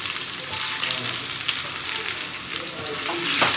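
Fenugreek seeds, mustard seeds and ginger frying in hot oil give off a dense, continuous close sizzle with crackling pops, at an even level throughout.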